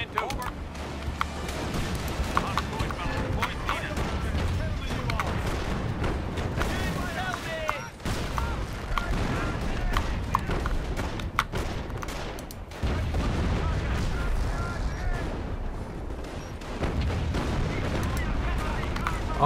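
Dense artillery barrage in the Company of Heroes: Opposing Fronts strategy game, continuous heavy booms and rapid gunfire explosions rolling for the whole stretch, loud and layered, with battlefield voices shouting orders beneath.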